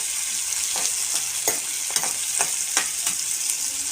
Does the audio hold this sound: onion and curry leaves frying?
yes